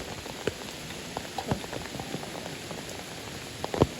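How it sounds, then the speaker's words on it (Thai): Rain falling outdoors where fish are being sorted from a trap, a soft steady patter with scattered louder drips and taps. "ฝนตกเนาะพี่น้องตรงนี้ค่ะ"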